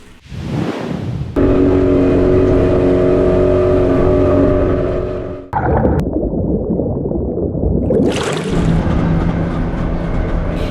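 A loud, steady boat engine drones close by off the Gili Islands, cutting out briefly midway before resuming with a rushing, splashing wash of water.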